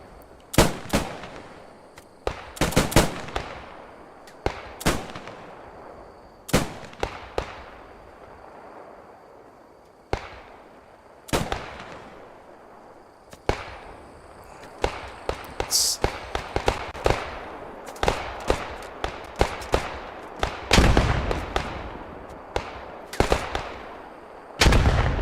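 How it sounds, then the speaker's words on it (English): Gunfire rings out during an infantry assault in the video game Post Scriptum: sharp single shots and rapid bursts crack at irregular intervals, some close and loud, others more distant, with occasional voices in between. "There's some wicked shots going off here."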